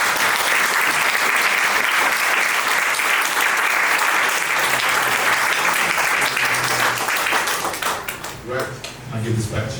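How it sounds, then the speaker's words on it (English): Audience applause for the High Commissioner of Mozambique at a book event at The Africa Centre in London, a dense, steady wash of clapping from a room full of people that thins out near the end. "A round of applause, please, for the High Commissioner of Mozambique."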